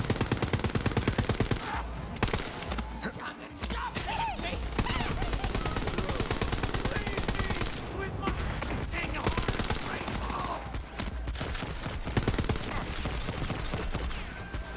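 Rapid automatic gunfire in the video game Borderlands 3, with dense bursts of shots continuing almost nonstop at close range, briefly pausing a few times, with faint talk mixed in.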